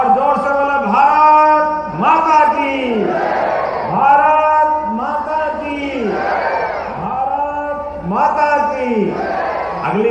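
A large crowd at an Indian political rally chants 'Bharat Mata ki Jai' in loud, rhythmic unison, repeated call after call with swelling voices and a strong, sustained roar across the whole stretch.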